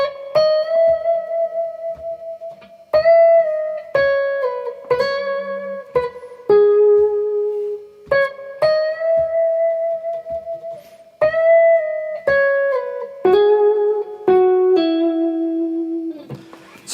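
Clean electric guitar plays the intro of a song, with single notes and chord stabs ringing out under heavy vibrato, loud and alone, with short gaps between phrases.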